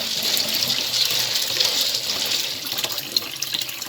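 Tap water runs steadily over rinsed red peas in a pot until it overflows, a continuous close hiss and splash with no pauses and no voices.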